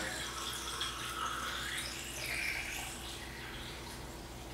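Stabilizer solution, kept at room temperature, pours steadily into an open film developing tank during home color film processing, a soft continuous trickle with no voices.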